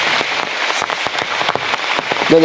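Steady rain pattering on a hard surface in a village, with sharper drops tapping now and then; loud, close and continuous, with no voices.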